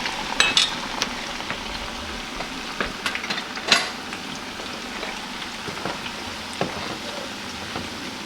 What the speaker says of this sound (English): chili still simmering away